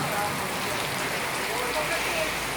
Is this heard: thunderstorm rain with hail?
yes